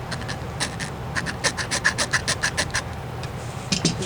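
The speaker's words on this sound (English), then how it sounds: "what I first do is I start it with my hacksaw." A hacksaw rasps through wood while a duck call is being made, giving a series of short scraping strokes in quick rhythm, close and moderately loud, with no talking.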